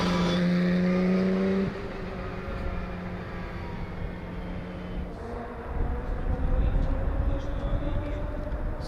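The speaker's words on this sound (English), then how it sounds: "Full course yellow is still applied. Cars must move at 60 kph." Race cars circulating under full course yellow at a circuit race in Riga, engine drones with steady pitch and a passing swell, moderately distant, under a commentator talking.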